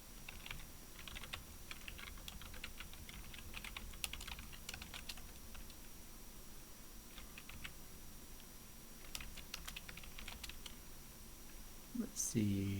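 Steady typing on a computer keyboard, a dense run of light clicks and taps through most of the stretch, with quiet speech faintly in the background and a brief louder clatter near the end.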